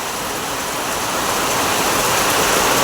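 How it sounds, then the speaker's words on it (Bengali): Steady, loud rain pours continuously in Kolkata, a dense close wash of falling water hitting surfaces with no pauses or voices. "কলকাতায় টানা এখন বৃষ্টি পড়ে যাচ্ছে"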